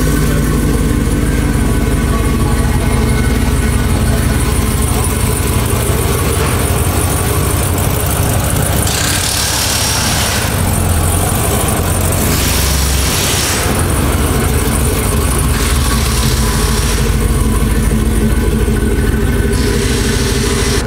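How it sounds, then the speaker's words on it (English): A loud, steady truck engine idle rumbles close by in a shop for the whole stretch, its throaty churn holding even with slight swells in pitch. "What a real truck sounds like"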